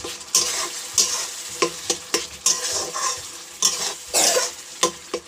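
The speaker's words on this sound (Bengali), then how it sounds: "এটা দিয়ে দিলাম হলুদ লঙ্কা। তো ওটা নাড়াচাড়া করে নেব একটু।" A spoon stirs turmeric and chili paste in a hot pan, sizzling with repeated scraping strokes in a steady rhythm, close and fairly loud, with no talking.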